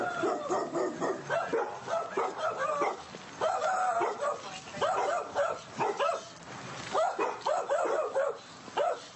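A dog barks and yips repeatedly at a house call during a night police response in Las Vegas, Nevada, the barks coming in bursts close by with faint voices in the background.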